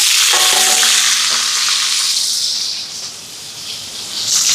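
Mustard seeds, fennel, onion, green chili and garlic frying loudly in hot oil, a dense bright sizzle with crackles that eases slightly midway before swelling again.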